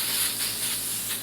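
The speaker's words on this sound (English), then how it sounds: "and then just spray it in here" Volumizing hair spray hisses from a bottle directly into lifted hair in one steady, close, fairly loud spray lasting just over a second, with no talk over it.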